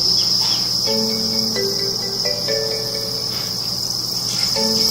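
Farmed crickets in a pen chirp continuously in a dense, steady high trill, with a few clearer tonal calls rising briefly over the loud chorus.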